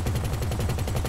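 Akula helicopter's non-explosive twin cannon in the GTA video game firing a rapid, evenly spaced stream of loud shots that continues without pause.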